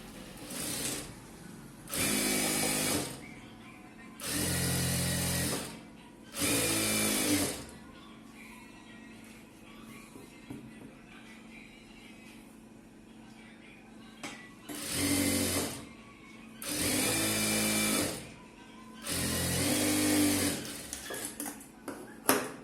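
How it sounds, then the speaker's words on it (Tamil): A tailor's sewing machine stitches chudithar pants in repeated short runs, each a steady motorized rattle of a second or two, separated by quieter gaps with faint handling sounds. "இப்போ வந்து பேண்ட்டு நான் தைக்கிறேன்"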